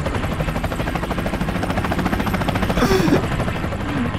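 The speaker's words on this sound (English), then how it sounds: "How do you land a helicopter?" Helicopter rotor in the Garry's Mod video game, a loud continuous rhythmic chopping throughout with a brief burst of extra noise partway through.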